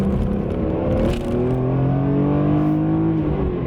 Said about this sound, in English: Let's do a little accel up the hill here.